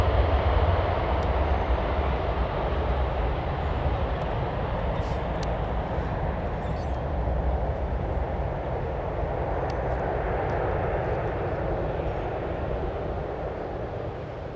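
An airplane at Memphis International Airport gives a steady, broad engine roar that stays loud and even throughout and eases off slightly toward the end, heard without talk.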